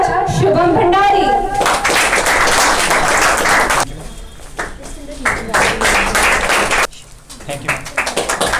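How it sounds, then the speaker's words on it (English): Audience applause at a monthly rewards and recognition ceremony, a loud burst of clapping that fades after a few seconds as a speaker talks over it and scattered claps continue. "Can we have a round of applause for our star of the month from Morning Batch, Shubham Bhandari"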